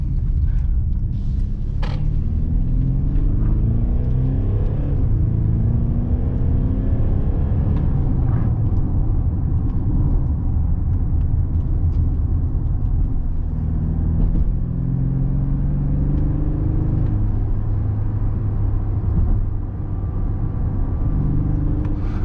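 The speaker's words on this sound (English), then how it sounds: "all you hear is the diesel engine, and in Sport Plus it revs a bit higher to make more sportier noises" A 2023 Mercedes GLC220 diesel SUV drives along, its engine a steady low rumble with gently rising and falling rev tones under constant road and cabin noise, heard from inside throughout.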